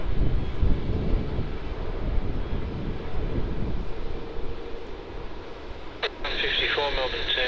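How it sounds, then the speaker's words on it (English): Airbus A350 jet landing at Melbourne Airport, a steady broadband engine roar under wind buffeting on the microphone, with a burst of crackly radio chatter near the end. "A great looking A350"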